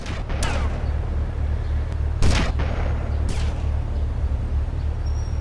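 Sniper gunfire in GTA: Vice City Stories cracks out as a few sharp separate shots, one louder boom near the middle, over a steady low rumble of background noise.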